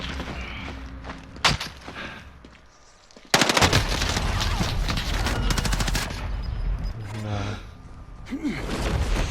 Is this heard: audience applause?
no